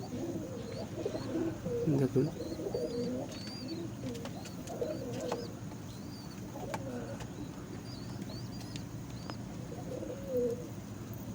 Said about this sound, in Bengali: এটা হচ্ছে পশ্চিমা পায়রা